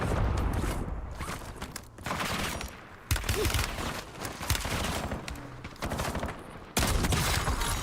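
Dense gunfire in Call of Duty: Warzone, sustained bursts of automatic weapons and overlapping shots rattling loudly and almost without pause, broken only by a couple of short gaps.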